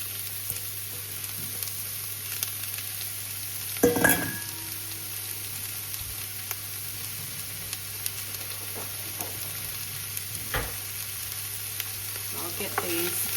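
Oil sizzling and frying steadily in a pan, a constant bright hiss close by with occasional pops and a brief louder spatter burst early on, no one speaking.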